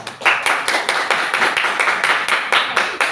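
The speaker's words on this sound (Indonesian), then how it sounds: "kita beri tepuk tangan untuk kelompok 3" A classroom group claps together in a fast, even rhythm, a dozen or so sharp synchronized beats close by with no talking over them.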